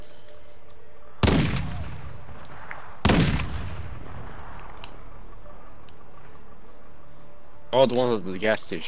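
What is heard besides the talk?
gunfire in a shooter video game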